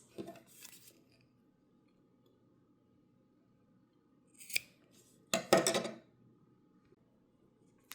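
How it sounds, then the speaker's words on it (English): Scissors snip loose crochet yarn ends for a vintage butterfly kitchen hot pad, with a light early snip and then a few quick, crisp cuts close by in an otherwise quiet room. "Go ahead and cut your loose yarn ends."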